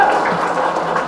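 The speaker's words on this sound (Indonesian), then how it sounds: "Tepuk tangan dulu." Crowd at an Islamic boarding school ceremony clapping on request, a brief, loud, continuous burst of dense applause.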